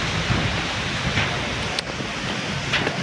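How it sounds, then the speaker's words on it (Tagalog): Strong wind in Albay, Philippines roars steadily across the microphone for the whole stretch, a dense, constant rush with slight gusting swells and no voices. "Lakas ng hangin."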